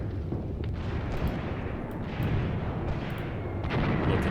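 Rumbling shell blasts and scattered debris in a World War II Eastern Front battle video game, with Wehrmacht troops and artillery; a dense, continuous roar of explosions with repeated bursts, loud and close throughout.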